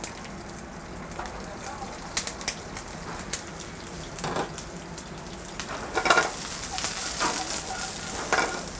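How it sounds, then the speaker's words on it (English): Fennel and red onion sauté over high heat in a pan, a continuous crackling sizzle with sharper bursts of spitting and stirring scrapes, close by and fairly quiet, with no talk. "First, we start just a simple saute of the veg."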